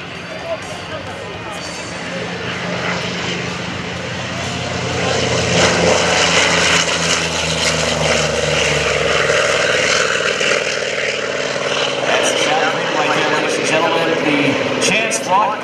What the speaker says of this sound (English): listen to the sound of the Corsair, that big radial engine up front as she powers up